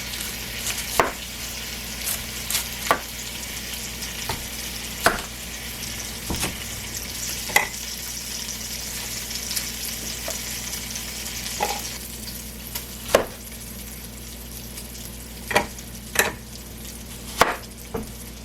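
Bacon frying in a pan for broccoli cheddar soup, a steady sizzle throughout with intermittent knocks and taps of kitchen prep, no talking.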